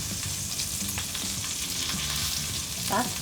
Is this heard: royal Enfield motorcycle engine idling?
no